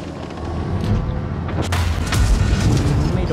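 Tank cannon fire in the mobile game World of Tanks Blitz, a heavy booming shot that swells into a rumbling roll over steady low battle noise, close and loud.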